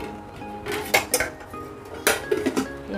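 Lids go onto containers of idli and dosa batter, a few close clinks and clatters of kitchenware in two short clusters over a quiet room.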